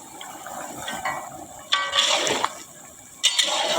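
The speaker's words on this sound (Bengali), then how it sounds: "দুধটা দিয়ে দিলাম।" Milk is poured into shukto, a Bengali vegetable dish with fried bori, raw banana, bitter gourd and eggplant, giving a close liquid splash with a few clinks and scrapes from the pot and utensils.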